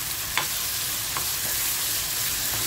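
Chopped tomatoes and salt land in a hot frying pan for a tangy, sweet and spicy tomato chutney, giving a loud, steady close sizzle with a few faint stirring clicks and no talking.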